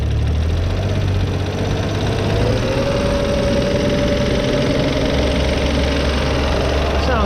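A BMW M2 engine with flood damage idles steadily with a light, rapid ticking tappet noise, then the revs rise slightly and hold with a low rumble.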